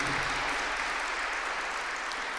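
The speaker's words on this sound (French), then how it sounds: "Comme je suis content que vous l'applaudissiez." An audience at a youth gathering in Montréal claps steadily, a soft and even wash of applause heard from a distance, with no other sounds standing out.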